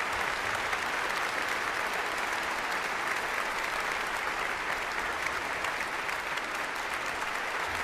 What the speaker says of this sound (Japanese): 割れんばかりの拍手